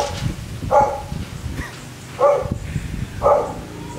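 Stray dogs bark outdoors in the Philippines, three separate loud barks spaced about a second apart, with street noise between them.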